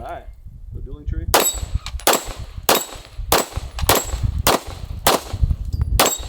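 A pistol fires a rapid string of shots at a steel dueling tree target on a shooting range. Each report is followed by a ringing clang from the plates, about eight loud, evenly spaced hits, close by, with faint voices at the start.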